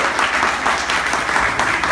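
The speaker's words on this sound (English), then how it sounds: "Clap one more time for my mother" A crowd at a marriage equality event claps loudly in honor of a minister's mother, a brief, dense burst of many hands close by, full and even from start to finish.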